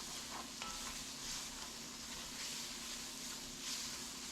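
Butter melts in a pan with bacon and aromatics, giving a soft, steady sizzle and hiss with faint stirring, quiet and close, with no voices.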